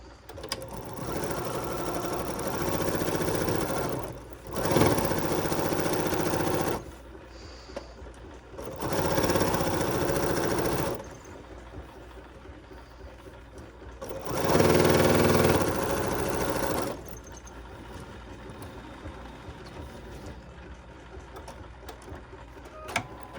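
A sewing machine stitching a crazy quilt block thick with batting at slightly less than a quarter-inch seam, running in four bursts of steady rapid whirring and clatter of a few seconds each, separated by quieter pauses.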